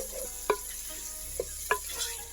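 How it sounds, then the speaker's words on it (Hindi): Finely chopped tomatoes and peeled garlic cook in a pan for chicken masala, a soft steady sizzle broken by three light clicking scrapes of a stirring spoon. "इसमें बारीक कटे हुए टमाटर और कुछ लहसुन के पोटी डालेंगे छिले हुए और इसे अच्छे से मिक्स कर लेंगे"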